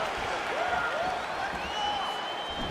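Arena crowd in the UFC 5 fighting video game, a steady roar of cheering and applause with rising whistles and yells, mixed under faint game sound.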